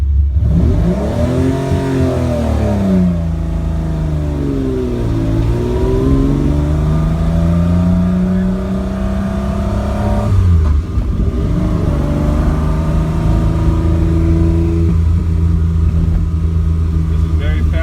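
A Ferrari 250 Lusso engine pulls through the gears from inside the cabin, loud and close, its pitch rising and falling with each shift. Someone talks over the steady engine note.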